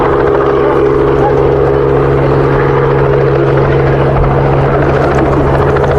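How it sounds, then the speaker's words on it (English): A helicopter at work during a rhino relocation, its loud, continuous rotor thump and engine drone close and steady throughout. "You can hear the chopper still dealing with the other animal."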